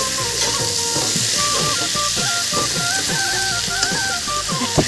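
Chicken pieces sizzle loudly in a pan while being stirred, with rhythmic scraping strokes repeating about twice a second over a constant frying hiss and a faint tonal hum in the background.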